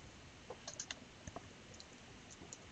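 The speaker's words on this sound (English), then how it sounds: "if I click the find button" Soft, close mouse clicks on a computer, a few quick taps scattered through a quiet room.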